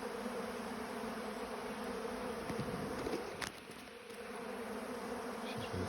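A single bee on a phone right beside the camera gives a faint, steady, even buzz that dips briefly near the end before carrying on.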